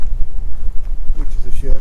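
Strong wind buffets the microphone outdoors by a lake in Sutton Park, a constant low rumble throughout, with a person talking faintly near the end.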